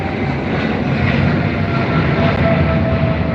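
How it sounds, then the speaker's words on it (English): A Qatar Airways Boeing 777 rolls down the runway at Heathrow for takeoff, its engines giving a steady, loud broadband roar that holds even through the whole stretch, heard from a distance with no talk. "Qatar Airways in their 777. They're off to Doha."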